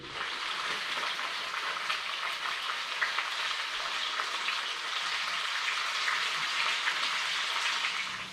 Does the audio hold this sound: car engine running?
no